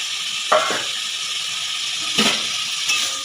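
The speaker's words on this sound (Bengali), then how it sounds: "চিংড়ি মাছটা এই মশলার সাথে আমি কাঁচাই কষবো" Raw shrimp frying with spice paste in a pan, a steady soft sizzle with a few brief clinks and scrapes of stirring, close and moderately loud with no talking.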